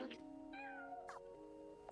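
A cat in the video game Stray gives a couple of drawn-out, wavering meows over a quiet background, clear and close, with a short chirp at the end.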